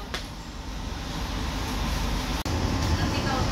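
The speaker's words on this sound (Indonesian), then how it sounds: "dalam kereta Argo Lawu tujuan Solo ke Gambir, Jakarta ya" Steady broadband rumble of the Argo Lawu passenger train running from Solo to Jakarta, heard from inside the carriage with a constant roar and a brief dropout.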